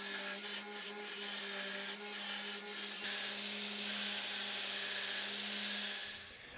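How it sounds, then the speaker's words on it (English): A belt grinder running a VSM Blue Destroyer ceramic belt grinds knife steel, giving a steady, loud abrasive hiss with a constant motor hum. Partway through, the contact shifts and the pitch changes slightly, with no talking. "I'm using the VSM Blue Destroyer ceramic belt for the foundation grinding"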